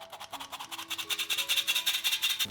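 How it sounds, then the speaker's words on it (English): A whisk beats airy biscuit sponge dough in a bowl with quick, even rhythmic strokes, a close scratchy swish repeating about eight times a second and growing slightly louder. "We continue to work with the whisk so that the biscuit dough is airy"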